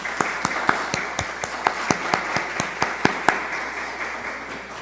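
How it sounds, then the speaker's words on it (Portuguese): Scattered, evenly spaced claps from a modest audience at a ceremony marking the International Day of Black Latin American and Caribbean Women, moderate in volume over a steady room hum. "a quem eu peço uma salva de palmas"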